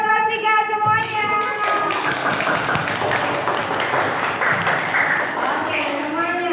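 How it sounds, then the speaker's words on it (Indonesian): A class of third-grade pupils claps in a classroom, quick scattered hand claps breaking out after a teacher's voice and carrying on under chatter and children's voices. "tepuk tangan buat kelas 3 semuanya"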